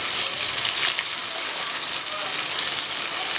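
Tomatoes cooking in a pan give a steady, close, bright sizzle and hiss that stays even throughout with no talk over it.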